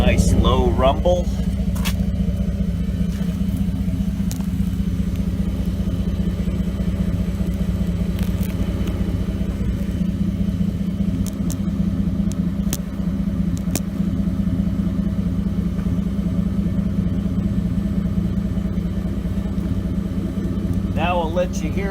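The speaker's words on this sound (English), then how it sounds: "Now that's how a V8 should sound at idle." A 2008 Ford Expedition V8 with upgraded intake and exhaust idles steadily with a low, throaty rumble, close and continuous throughout, with no voices heard over it.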